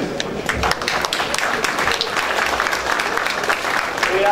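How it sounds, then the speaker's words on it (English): Applause rings out from an audience at a Limousin cattle sale in Carlisle, steady clapping sustained throughout as prize-winning champions are congratulated, with some crowd noise mixed in. "Join me in a round of applause"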